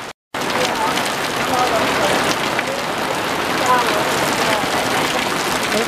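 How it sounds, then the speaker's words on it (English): Steady rain patters on a surface close by, a dense even hiss that continues without a break after a brief silence at the start. "definitely raining"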